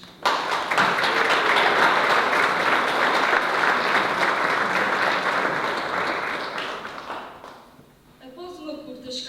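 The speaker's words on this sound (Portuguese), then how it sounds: "Uma salva de palmas." A hall audience at a cultural evening bursts into loud, sustained applause that holds steady for several seconds, then fades away as a voice begins speaking.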